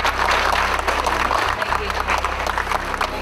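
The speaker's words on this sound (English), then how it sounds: "Please give her a big round of applause." Audience applause for a guest of honor at a formal ceremony in the Philippines, a dense steady wash of clapping filling the hall, with a voice coming through faintly beneath it.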